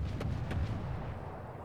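In World of Warships, the cruiser Smolensk fires its guns: two sharp booming shots land close together near the start, followed by a low rumbling tail that fades slowly.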